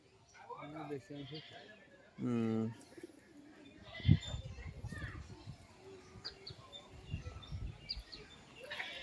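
Mostly white pigeons coo softly at a pigeon sale under lively chatter, with people and children talking nearby and a brief loud tone and a thump partway through.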